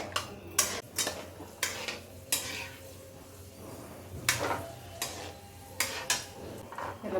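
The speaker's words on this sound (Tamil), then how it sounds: "நெய் சுட்டோன்னே இந்த முந்திரி பருப்பு திராட்சையை போட்டு பொன்னிறமாக்கிக்கலாம்" A spoon stirs and scrapes cashews and raisins frying in ghee in a pan while making fried gram laddu, giving sharp metallic clinks in an irregular rhythm over a soft background sizzle.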